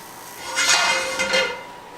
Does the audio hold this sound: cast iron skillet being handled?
yes